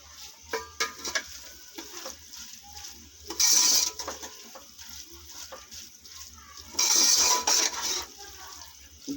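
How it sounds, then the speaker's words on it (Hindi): Macaroni being mixed with mayonnaise in a bowl, sticky squelching and scraping stirs in irregular bursts, with two louder bright scraping passes, close and fairly quiet between strokes. "ये मिक्स कर लेंगे।"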